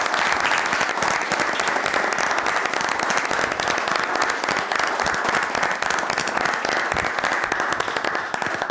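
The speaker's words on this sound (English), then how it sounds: "give a good, great applause to Mike today." Sustained applause from a large audience at a business ethics colloquium, dense and steady throughout with no break, loud and close, no voices standing out.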